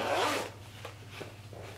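A zipper on a quilted pyramid pouch is pulled closed in one quick zip, then a few faint short tugs follow in an otherwise quiet space.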